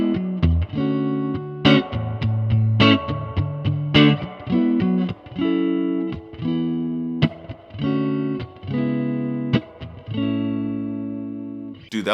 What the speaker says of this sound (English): play with miking and see the actual tones that we can get with 1 watt